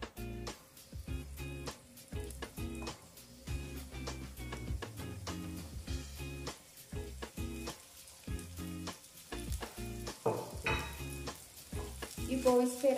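Sliced onion and three garlic cloves sizzle and crackle steadily in a hot pot, a dense continuous frying hiss with occasional stirring clinks, fairly close and loud.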